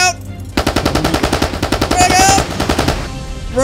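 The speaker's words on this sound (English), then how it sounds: "Get on the miniguns, boys." Rapid minigun fire in the video game ARK Survival Evolved during a battle, a loud sustained burst of automatic shots that rattles steadily for about three seconds before cutting off.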